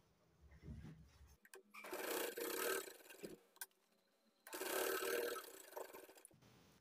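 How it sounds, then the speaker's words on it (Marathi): A sewing machine double-stitches a tuck on a lined blouse in two whirring runs of a few seconds each, separated by quiet pauses with small handling clicks, close and moderately loud. "आता डबल शिलाई करून घेऊया."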